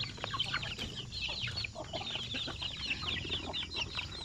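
Chickens in an open farm range area, including newly released chicks, fill the scene with dense, continuous clucking and high peeping chirps from many birds at once, steady and fairly close, with no talk.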